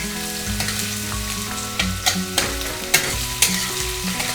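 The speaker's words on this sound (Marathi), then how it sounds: "त्यानंतर कढीपत्ता आणि कांदा तर आता आपण दोन मिनटं कांदा लालसर होतपर्यंत फ्राय करून घेणार आहोत" Onion and curry leaves fry in a pan for an egg rice dish, a steady close sizzle punctuated by repeated scraping stirs of a spoon against the pan.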